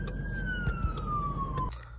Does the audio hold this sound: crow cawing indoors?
no